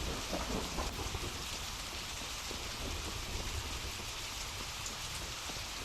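Steady rain and thunder fill a stormy scene in the survival video game XERA Survival, a dense, continuous wash of rainfall with low rumbling, loud and unbroken throughout.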